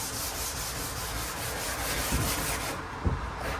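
Coarse 80-grit sandpaper rubs back and forth across a 1932 coupe's body in a steady scratchy hiss, with a couple of soft knocks.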